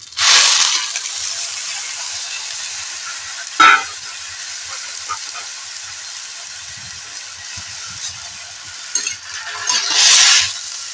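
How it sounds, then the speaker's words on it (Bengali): Chopped papaya dropping into a pan of water on the stove, with a bright hissing splash at the start, a sharp clatter near four seconds, then a low quiet simmer and another burst of hiss and splashing at the end. "আর ওই জলের মধ্যে আমি এই কুচনা এইগুলো পেঁপে দিয়ে দিলাম"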